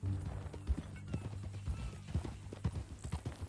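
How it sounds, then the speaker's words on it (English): Hooves of a horse clip-clopping in Red Dead Redemption 2, a steady rhythmic walk of hoofbeats close by, mixed with a low game soundtrack hum and faint background voices. "That a new horse?"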